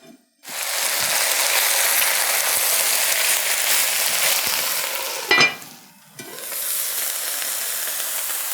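Spinach steams and wilts in a covered pan, giving a steady loud hiss and sizzle with a brief clatter and dip partway through, then the hiss resumes; no talking.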